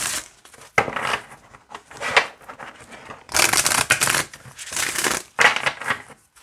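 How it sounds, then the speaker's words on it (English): A deck of oracle cards is shuffled by hand in several bursts of crisp riffling and rubbing, close and clear, with short pauses between bursts. "That shuffle's really nice. I'm going to shuffle it this way."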